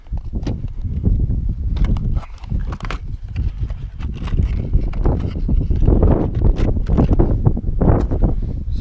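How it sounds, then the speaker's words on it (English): Outdoor wind buffets the microphone in continuous loud gusts at an ammunition walkthrough for Fiocchi 5.7x28mm rounds, a rough rumbling roar with irregular thumps that rises and falls across the whole stretch with no talk. "the wind's kind of picking up a little bit"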